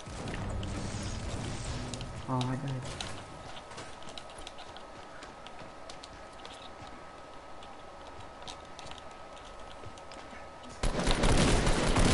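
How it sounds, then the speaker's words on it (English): A tactical shotgun fires in a Fortnite match amid a busy, ticking game soundscape, with a quick burst of shots early on and a loud rush of noise near the end. "Alright, tactical shotgun."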